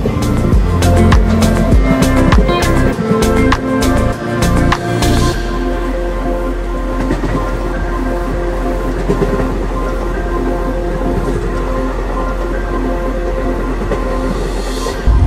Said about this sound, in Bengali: ট্রেন এসে পৌঁছলো কোল্লাম জাংশনে।